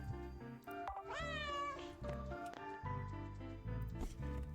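Cat meowing in the video game Returns Outlet Simulator, one drawn-out rising meow up close over light game sounds and background music.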